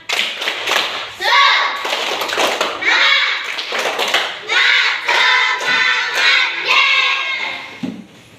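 A class of third-grade children claps a quick rhythmic cheer pattern in bursts in a classroom, mixed with chanting voices and thumps, fairly loud and close.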